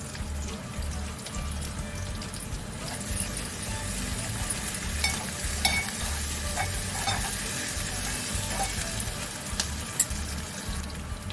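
Half a spoon of ginger garlic paste fries in a pan while being stirred for a bottle gourd curry. A steady close sizzle runs under repeated rhythmic scraping and occasional clicks of the spoon, with no voices.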